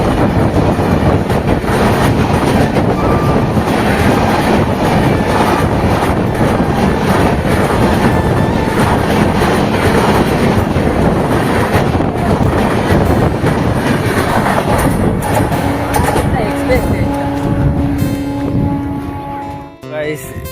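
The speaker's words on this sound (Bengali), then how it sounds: "এখন আসছে সুপার এক্সপ্রেস ট্রেন" A super express train roars past close by, a loud steady rumble with rail clatter that fills nearly the whole stretch before dropping away sharply at the end.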